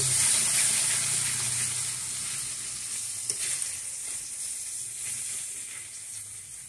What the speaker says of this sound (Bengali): এবার মশলাগুলোকে ভালো করে নেড়ে চেড়ে কষিয়ে নেব।